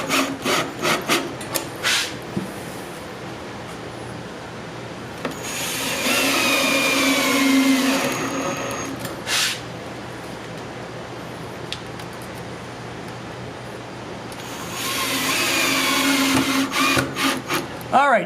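A screw is driven into a wooden beehive kit box with a power driver, two whirring, grinding runs of several seconds each, separated by lighter handling clatter and knocks, fairly close.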